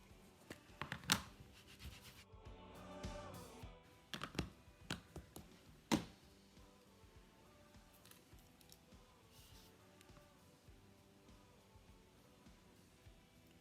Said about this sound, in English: You will see I'm stamping the image directly into the centre of the tissue paper